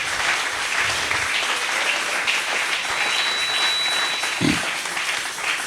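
A church conference audience acclaims the Lord with steady, continuous applause filling the hall at an even level, without speech on top.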